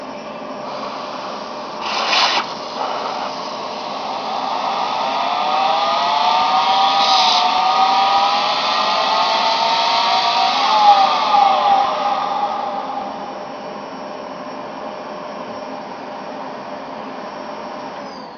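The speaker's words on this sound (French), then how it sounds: "Maintenant je vais faire la même expérience mais avec l'aspirateur dans le fond." A vacuum cleaner runs at the bottom of a bell jar, a steady airy whir that starts after a couple of seconds, holds for about ten seconds, then cuts off, leaving a faint background hum.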